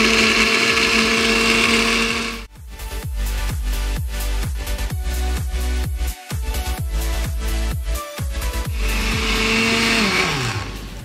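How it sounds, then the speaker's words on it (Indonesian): A kitchen blender whirs loudly and steadily, grinding soybeans with water, with rhythmic pulsing churn through the middle and a steady motor drone before and after, no voices. "Kita blender selama 1 menit."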